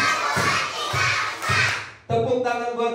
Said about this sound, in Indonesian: Tepuk tangan buat ibu guru